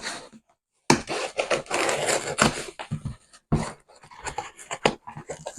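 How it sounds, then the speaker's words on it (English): A Japanese cardboard knife slices open a cardboard seed package, producing close, loud scraping and tearing bursts in irregular strokes separated by short pauses. "This is a Japanese cardboard knife. It's dull for your skin,"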